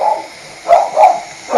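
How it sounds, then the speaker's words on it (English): A small dog gives several quick, sharp barks in short bursts, fairly close, with quiet gaps between them. "He's barking at the noise."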